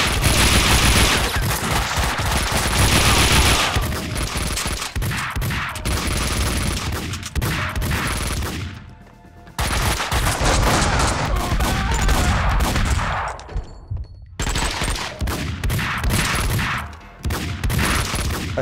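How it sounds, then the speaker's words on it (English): Loud, dense gunfire in the video game Max Payne 2, with sustained rapid bursts and volleys of shots nearly filling the scene, broken by a couple of short pauses. "these guns are loud."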